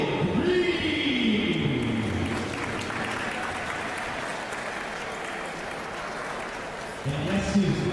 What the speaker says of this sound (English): please give a warm round of applause for a special segment with my man, the infamous Wally